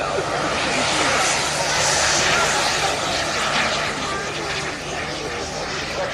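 A Eurosport model airplane's small engine drones loud and steady as it takes off at an outdoor model aircraft show, a continuous buzzing whine with crowd ambience.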